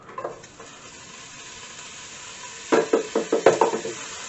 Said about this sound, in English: put your bacon in the pan